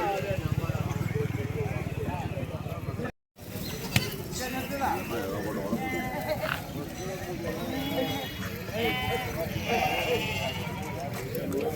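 Sheep bleat repeatedly at a crowded livestock market for goats and lambs, several animals calling near and far over a busy background of people talking and footsteps, with a brief dropout early on.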